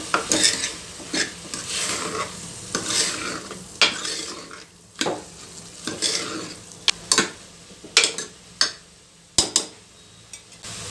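Spices being stirred into beetroot gravy in a pan, a spoon scraping and clacking against the metal in irregular strokes over a soft sizzle, close up with no talking.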